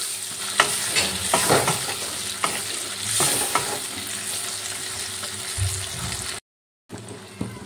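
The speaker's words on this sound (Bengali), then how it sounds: "সেই বেগুনের টুকরোগুলো দিয়ে দিলাম। দিয়ে খুব ভালো করে তেলের সাথে ভেজে নিতে হবে।" Salted, turmeric-coated brinjal pieces fry in hot oil with a loud, dense sizzle, broken by repeated scraping stirs, then a short gap.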